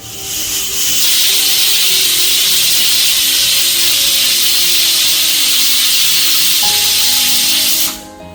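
A loud, steady hiss of steam escaping under pressure from a small pressure cooker on a stove, continuous for several seconds before cutting off abruptly near the end.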